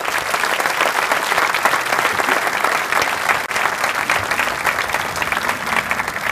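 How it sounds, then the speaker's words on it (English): Sustained applause from an audience honouring soldiers at a military change of command ceremony for the 21st Theater Sustainment Command, dense and steady throughout with no speech over it. "So let's give them all a round of applause."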